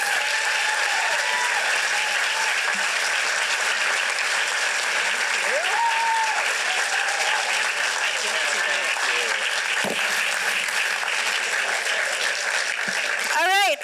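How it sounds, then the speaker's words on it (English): Audience at a PechaKucha Night event in Burlington giving sustained, dense applause for the whole stretch, with a few scattered whoops rising above the clapping. "Let's do one more just giant round of applause for everybody who presented tonight."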